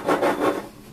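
A cutter slides and rubs through tea biscuit dough in three quick scraping strokes, close up and fairly loud, then fades to quiet.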